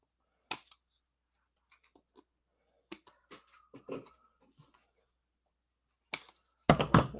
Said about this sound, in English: Just gonna take my scissors and clip